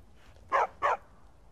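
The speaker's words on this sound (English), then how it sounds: "Hell yeah, I got a dog companion." A dog companion in Skyrim gives two short barks in quick succession, moderately close and clear against a quiet background.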